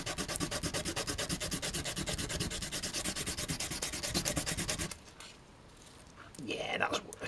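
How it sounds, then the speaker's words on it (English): Sandpaper rubs back and forth in quick, rhythmic strokes on a small part for a radio-controlled Mystery Machine model, loud and close, then stops as quieter handling noises follow. "I think I'll use sandpaper for that"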